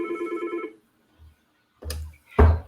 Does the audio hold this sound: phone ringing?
yes